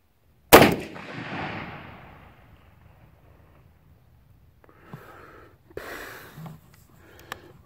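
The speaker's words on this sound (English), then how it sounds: "Pretty good shooting gun." One loud, sharp shot from an H&R Handy Gun rifle rings out early and decays over a second or so, followed by quiet handling clicks and rustles.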